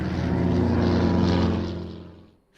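A propeller aircraft passes at an air show at the Midlands Air Festival, its loud droning engine roar holding steady close by, then fading away as it moves off.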